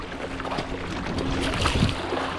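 A Bixpy jet motor on a DIY adapter drives a cheap Amazon Intex Challenger K1 inflatable kayak, a steady broadband whir and water rush close to the microphone, with continuous wind buffeting throughout.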